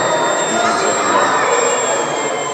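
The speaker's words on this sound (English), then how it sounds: "flying a biplane, and he'll be putting it through the hoops" The engine of a remote-controlled model biplane flying through hoops at the Bangor model show gives a loud, steady, high-pitched whine. Outdoor noise and a commentator's voice run over it.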